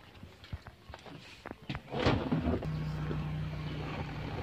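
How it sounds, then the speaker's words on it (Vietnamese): A used 2010 Daewoo Gentra sedan's engine cranks after a few clicks and catches with a loud burst, then settles into a steady, low idle hum heard up close by the engine bay. "sau đây sẽ nổ máy các bác xem"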